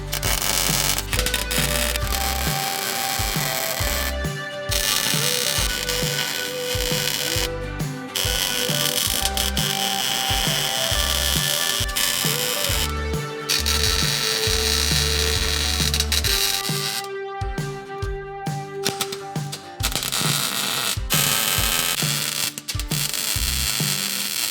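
Metal piece being ground down to fit for welding into a drivetrain upgrade, a loud continuous grinding whine with rough rasping bursts and brief pauses throughout.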